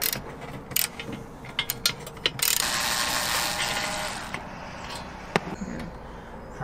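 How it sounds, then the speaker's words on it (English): A ratchet tightens bolts that fix legs to Unistrut on a roof rack, giving bursts of quick clicking, then a longer steady grinding rasp and a few sharp taps. "now we get to bolt the legs into our existing roof rack Unistrut"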